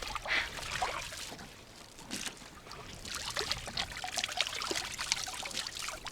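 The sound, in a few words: shower running water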